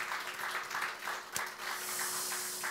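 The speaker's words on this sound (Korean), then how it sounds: "우리 모든 수고한 분들께 그래도 격려하고 감사의 박수를 올려드렸으면 좋겠습니다" Church congregation clapping in thanks to volunteers, a faint, steady spread of applause with a steady hum running underneath and a single sharp knock partway through.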